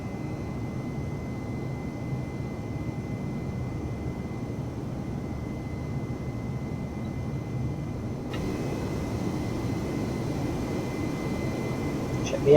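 Steady cabin drone of an Airbus A320 jet in Microsoft Flight Simulator 2020, a constant low roar that rises slightly in level partway through, heard alone without talk.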